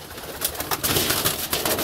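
Pigeons in a city dovecote at dawn give soft, repeated cooing over a dense, close flutter of bird sounds.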